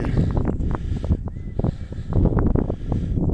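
Wind gusting across a microphone at a rifle shooting range, a rough continuous low rumble with buffeting swells close to the mic and no talk.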